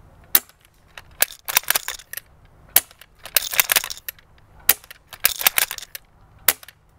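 An all-wood toy gun fires in bursts of sharp snapping cracks with clattering mechanism between shots, loud and close, in uneven clusters with short pauses, no speech.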